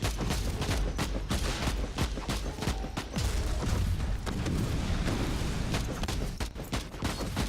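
Shotgun fire in Warhammer 40K: Inquisitor - Martyr, a dense run of close, loud blasts and booms firing in quick succession over a continuous combat din.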